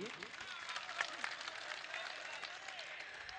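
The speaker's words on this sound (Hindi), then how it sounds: "एक बार तालियों से इस्तकबाल कर दीजिए" An audience at a mushaira poetry gathering claps together, a soft, fairly distant patter of applause that holds steady throughout, with a voice speaking over it.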